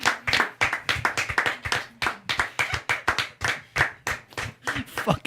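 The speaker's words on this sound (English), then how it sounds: "Fucking slow clap." A single set of hands claps loudly and close in a regular beat, a quick string of sharp separate claps with brief gaps of silence between them.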